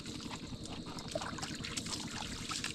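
Natural mountain water flows steadily without pause, a continuous close trickle and splash that stays fairly soft throughout.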